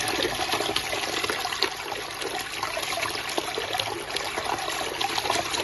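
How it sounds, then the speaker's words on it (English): A SHYSKY DC50K-24160S 24-volt DC micro water pump runs normally while pumping water. A steady, close rush and gurgle of flowing water continues at even loudness throughout with no breaks. "We will see our pump runs normally with no noise at water pumping."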